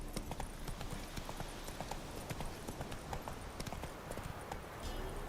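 Galloping horse in The Witcher 3, a steady rapid clip-clop of hooves running throughout at close range, with faint ambient game sounds beneath and no talking.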